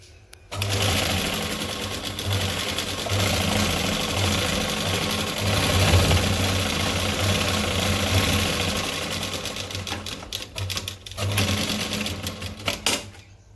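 A domestic sewing machine runs steadily while stitching around the neckline of a fancy blouse, its fast mechanical whir continuous and close for most of the stretch, then breaking into short bursts near the end.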